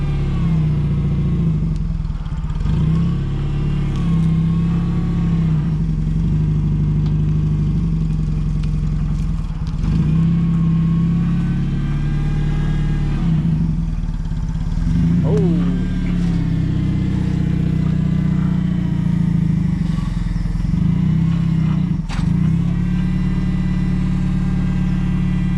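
A vehicle engine idles and rumbles steadily up close while pulling forward to unload a Bridgeport milling machine, with occasional clanks and voices in the background.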